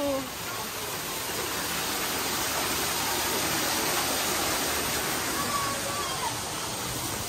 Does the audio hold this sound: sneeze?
no